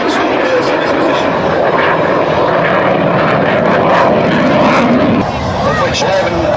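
A Tornado GR4 swing-wing jet making a slow-speed flypast at a squadron open day air show, its engines roaring steadily and loudly overhead with a broad rumbling hiss that swells slightly before easing.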